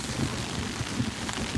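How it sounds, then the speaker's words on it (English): Cold rain falls steadily at a winter backpacking camp during a blizzard storm, a constant close hiss of drops pattering on surfaces with soft low thuds, no voices. "Yep, it is raining again. And let me tell you folks, this is a cold rain."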